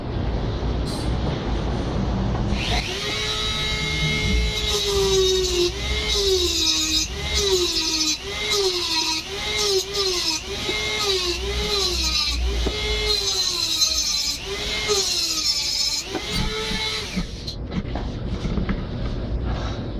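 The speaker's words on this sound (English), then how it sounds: "I'm going to use my rotary tool, and I got my cutoff wheel, and I'm just going to make an initial slot on these." A rotary tool with a cutoff wheel cutting slots into a GY6 scooter clutch, starting with a steady high whine, then a loud grinding screech that wavers in repeated strokes about once a second, close and continuous before tapering off.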